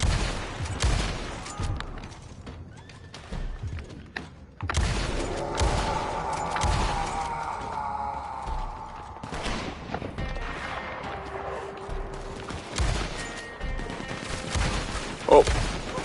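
Rapid gunfire crackles in Red Dead Online, sharp shots packed into dense, busy bursts with a loud spike near the end, mixed with game noise and some voice.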